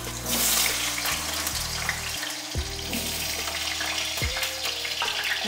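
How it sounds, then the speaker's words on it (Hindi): Potato pieces frying in hot oil in a home kitchen, a loud continuous hiss and sizzle with no pauses, carrying steady bubbling noise through the whole stretch. "इस तरीके से सारे आलूओं को गोल्डन होने तक हम फ्राई करेंगे"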